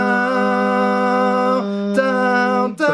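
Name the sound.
pre-recorded backing track for a song's bridge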